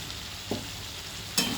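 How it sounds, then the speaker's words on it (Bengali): Potatoes with spices frying in a pan for a pointed gourd and potato curry, a soft continuous sizzle broken by two brief scrapes of a spoon stirring, no talk. "আমি আবার সমস্ত কিছু ভালোভাবে নাড়াচাড়া করে দিচ্ছি"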